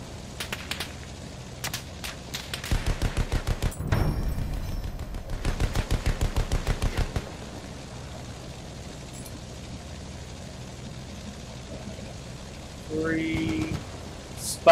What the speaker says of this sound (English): Now everybody's shooting at me.